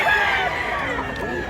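White rooster crowing in a rural Cebu village, a single drawn-out call close by over faint background voices.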